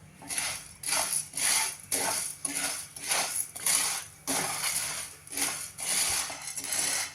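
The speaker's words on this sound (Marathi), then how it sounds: "कच्चा साबुदाणा घेतलाय तो अगदी तीन चार मिनटं आपल्याला भाजून घ्यायचा आहे" Raw sago pearls are dry-roasted in a pan, rattling and skittering in rhythmic bursts as they are stirred or tossed, each scrape about half a second long with short pauses between.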